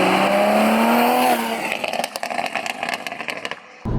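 A 2020 Toyota Supra engine revs loudly and close by with a rising whine, then shifts into a rougher, stuttering burble with crackles as it eases off, heard alone without talk.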